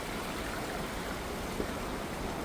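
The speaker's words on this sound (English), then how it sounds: "And there's the waterfall." Yosemite Falls, a waterfall heard from a hiking trail, gives a steady, broad rushing roar of falling water with no break.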